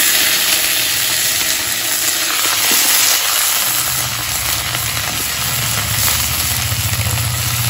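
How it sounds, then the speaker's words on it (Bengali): Hot oil crackles and sizzles in a pan while cooking a cauliflower curry, a dense steady frying hiss with scattered sharp pops and a low burner hum underneath. "তেল ফুটছি একবারে"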